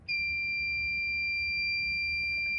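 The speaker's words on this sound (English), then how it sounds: "If your power goes out, your alarm's gonna go off." A battery backup sump pump's power-failure alarm sounds a loud, steady high-pitched electronic tone that starts abruptly and holds unbroken without pause, close and alone over a faint low hum.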